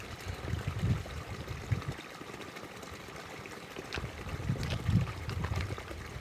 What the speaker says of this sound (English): a crisp, bubbling brook, where we replenished our water